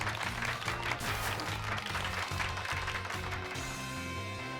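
Crowd applause in the Pokemon Violet video game, a steady wash of clapping that runs the whole time over looping game music, moderately loud and continuous without any break.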